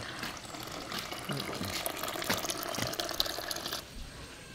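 Water runs and splashes steadily from an upside-down garden tap, close by, with a faint voice murmuring underneath.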